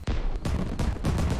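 Fireworks launch in the VR game Vistascapes VR, three loud booming bursts spaced roughly evenly, each a broad thudding blast with a rumbling tail, heard alone without talk.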